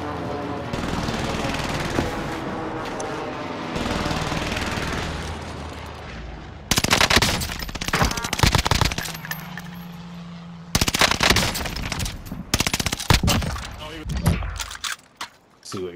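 Gunfire in the battle-royale shooter Warzone: bursts of automatic shots and sharp cracks crowd the second half, loud and close, after a stretch of busy game noise, with players talking over the action.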